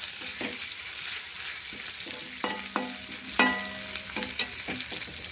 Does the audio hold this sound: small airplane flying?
no